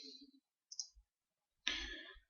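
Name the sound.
mouse clicking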